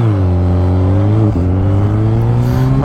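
BMW K1300S motorcycle engine pulls strongly under acceleration, a loud, close, steady tone rising in pitch, briefly dipping as it shifts and climbing again.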